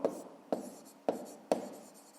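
A pen writing by hand, working out a grade-5 maths exercise on paper: four quiet, distinct strokes or taps at a steady rhythm, each followed by soft scratching, close and alone.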